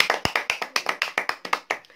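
Brisk hand claps for the winner of a samosa eating challenge, about fifteen sharp, evenly spaced claps in quick rhythm, close by, with no talking.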